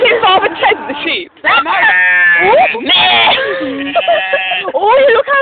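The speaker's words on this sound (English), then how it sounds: "Have you ever seen Father Ted the sheep" Several sheep bleating loudly and close, overlapping wavering cries in quick succession with brief pauses between calls.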